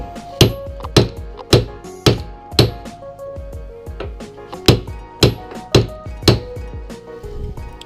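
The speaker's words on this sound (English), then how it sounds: "my screwdriver acts like a chisel and just completely destroys that color" Screwdriver driven like a chisel against a part on a lifted Volvo 740, a series of about a dozen sharp, loud metallic strikes in an uneven rhythm, close up with no talking.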